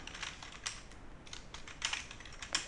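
Quiet, fast typing on a computer keyboard while entering code, with irregular bursts of light key clicks and short pauses, close up and alone.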